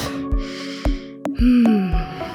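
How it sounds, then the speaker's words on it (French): Sharp, forceful breath-of-fire exhalations during a leg and glute workout stretch, four distinct rhythmic puffs spaced about half a second apart, close and loud, with a sustained voiced breath in the middle. "Maintenez cette respiration de feu."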